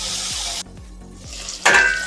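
Pike fish sizzles loudly in a frying pan, a steady close frying hiss broken by a brief dip and then a sharp louder burst of spitting oil, with no talk over it.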